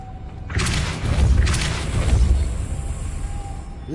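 A Depulso spell cast in Hogwarts Legacy bursts out as a loud, deep boom with a rushing blast, followed by a second thudding surge and a fading rumble.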